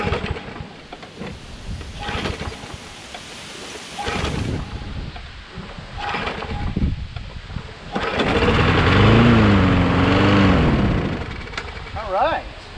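A Troy-Bilt 21-inch self-propelled lawn mower with a Briggs 6.75 Quantum engine runs close by, revving high and uneven with surging bursts, while a person talks over it at times.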